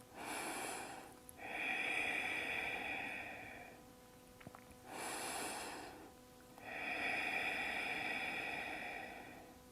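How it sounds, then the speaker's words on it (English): Deep, slow breaths during a yoga pose, two full cycles of long airy inhales and exhales, close and clear with brief pauses between. "Take a few breaths."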